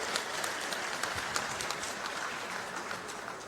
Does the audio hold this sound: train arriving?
no